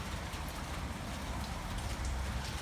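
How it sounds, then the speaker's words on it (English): Steady rain falls hard overnight in the dark, a dense, even patter on surfaces with a low rumble beneath, continuous and fairly soft. "it's raining pretty good"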